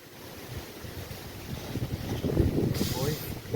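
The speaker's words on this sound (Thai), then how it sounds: "ตั้งแต่ที่ผมเปิดกล้องมานะครับนะ ลมกระโชกแรงตลอดเลยนะครับ" Strong, gusting wind roars outdoors at night, with rumbling microphone buffeting that builds and stays loud through the clip, alone without talk.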